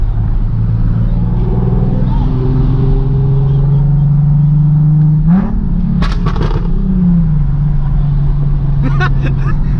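Nissan 370Z with a loud aftermarket exhaust, rumbling steadily up close with a rising rev and a short burst of crackling pops near the middle, over a constant drone.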